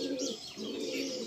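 Pigeons cooing inside a loft where pigeons are kept for sale, several low, rolling coos overlapping and pulsing steadily at close range, with a few faint higher chirps mixed in and no talking.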